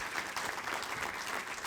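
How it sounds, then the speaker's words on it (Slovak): Steady applause from a conference audience closing a session on social economy and regions, dense and even throughout with no break or voices over it. "nám zostáva len jeden veľký potlesk pre pani Melis Aslan"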